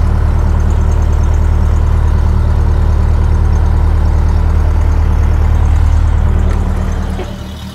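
A 1930 Ford Model A coupe engine running loud and close, a deep, steady rumbling idle with a rough, uneven edge that holds throughout before fading at the end.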